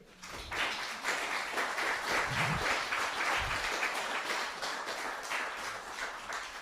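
Conference audience applauding a pastor after his talk on speaking of God, a steady, dense wash of clapping from many hands filling the room for several seconds.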